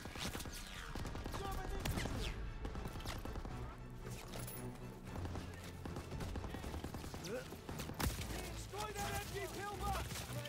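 Dense gunfire pinning down a bunker in Call of Duty: WW2, with rapid rifle and machine-gun shots and crashes layered under loud battle noise and shouting voices throughout.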